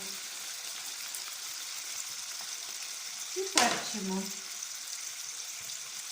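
Liver fries in a heated pan with a steady, close sizzle throughout, and a brief clatter or stir near the middle while a voice speaks over it.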